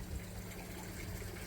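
Water trickling steadily through an outdoor aquaponic food-growing system after rain, a soft continuous low gurgle with no voices.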